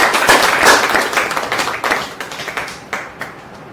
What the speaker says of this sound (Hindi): देखिए, एक बार ताली भगवान को।